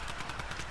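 Rapid gunfire from the Fortnite video game rattles in quick repeated bursts, a fast even rhythm of shots filling the short moment without any talk.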